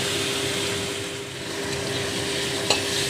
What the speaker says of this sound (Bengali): ফোড়নের সাথে আলুটাকে ভালো করে ভেজে নিচ্ছি